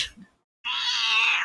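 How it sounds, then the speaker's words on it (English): A cat gives a long, loud, drawn-out meow close by, starting after a brief faint sound and a short silence and holding steady to the end. "I think I probably need to let this cat out."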